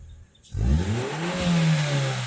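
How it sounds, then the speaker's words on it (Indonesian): A Hyundai Avega car engine revs up after a brief quiet moment, its pitch climbing steadily as the RPM rises, close and loud with no talking. "Dan ini naiknya RPM keren, Pak."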